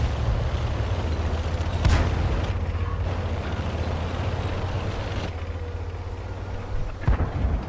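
Two booming high-explosive tank shell explosions in World of Tanks burst out several seconds apart over a constant low engine rumble, loud and close.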